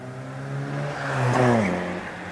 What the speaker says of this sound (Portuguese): Como seria um barulho de um motor trabalhando, esguelando ou trabalhando forçando, vai, forçado?